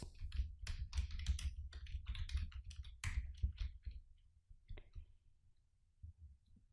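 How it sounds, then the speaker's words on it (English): Rapid typing on a computer keyboard during an office software session, a dense run of close, crisp key clicks that thins into sparse taps toward the end, with no talking. "I'm going to just type regular sales and markdown sales units."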